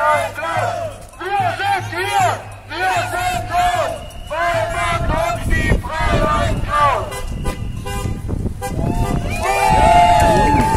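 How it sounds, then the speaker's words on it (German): Car horns honk repeatedly at a street demonstration in Heiligenhaus, Germany, amid loud crowd shouting and chanting, with voices and vehicle noise mixing throughout. "Begeistertes Hupen."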